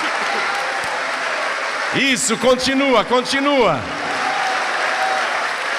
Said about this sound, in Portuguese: vamos dar para esta palavra a melhor salva de palmas